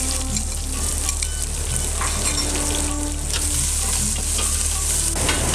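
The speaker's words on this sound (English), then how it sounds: "Saute till the onions turn brown." Chopped onions, black pepper, cardamom and mace frying in hot ghee in a pan, a loud steady sizzle with occasional stirring scrapes throughout, no voices.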